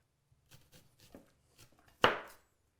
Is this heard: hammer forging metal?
no